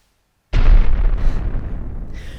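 A single explosion sound effect cut into an edit: silence, then a sudden deep boom with a heavy rumbling low end that sustains and slowly decays over about two seconds, loud and close, with no talk.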